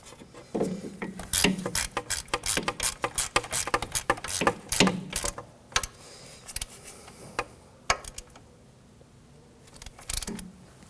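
Ratchet snugging the ABS wheel speed sensor bolt into the knuckle of a 2013-2015 Subaru XV Crosstrek, with a run of rapid close clicks and metallic ticks in bursts, then quieter pauses and a final short flurry.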